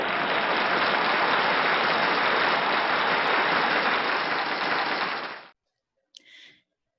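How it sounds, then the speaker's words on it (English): Applause from a class audience for a guest named Carla during a credit workshop, a dense, even wash of clapping that stops abruptly after about five seconds, followed by a brief faint sound. "Everyone, give Carla another round of applause."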